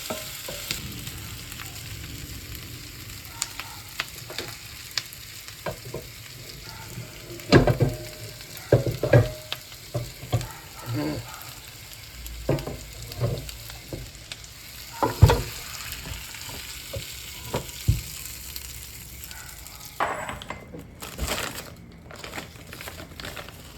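Onions sizzle steadily in a pan while being stirred for Hungarian goulash, with scattered scraping and clicking strokes of the utensil over the continuous frying hiss.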